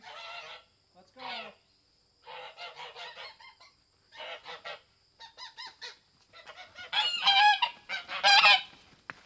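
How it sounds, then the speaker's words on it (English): Geese honk in a series of loud, nasal calls, scattered at first and then crowding together into a more agitated burst of overlapping honks near the end. "The geese are getting pretty testy."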